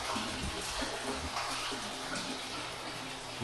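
Water streams steadily out of a DIY reverse osmosis system used for maple syrup processing, a constant broadband rushing flow that holds even from start to finish with no talk.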